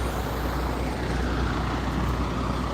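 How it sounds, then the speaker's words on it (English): Steady broadband rumble of a tow truck rolling by nearby, a continuous low drone of engine and road noise with no distinct peak, no voices. "Yeah, nice tow truck."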